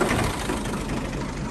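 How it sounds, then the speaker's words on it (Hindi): Tractor engine running close by, a loud, steady low mechanical rumble with rattling texture throughout the short stretch. "ट्रैक्टर जी स्टार्ट कर लिया गया है"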